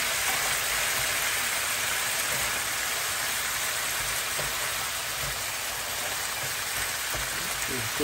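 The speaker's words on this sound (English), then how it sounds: "Put the chopped up beef into a frying pan real quick." Chopped beef sizzles in a frying pan with a steady, dense hiss and occasional small pops, continuous and close throughout without talk.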